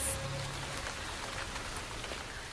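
Rain falls in the African wild as a drought breaks, a soft, steady patter of drops heard alone and fairly quiet.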